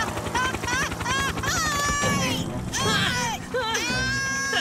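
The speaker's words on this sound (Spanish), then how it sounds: "¡Aquí llega Tom Thomas en su helicóptero!" A cartoon helicopter arrives in an animated Fireman Sam rescue scene, its rotor sound running steadily under excited shouting voices and music for the whole stretch.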